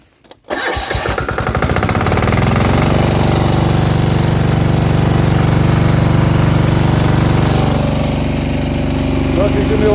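A compactor engine catches after a brief crank and settles into a loud, close, steady rattling idle with a strong mechanical pulse, shifting slightly in pitch toward the end.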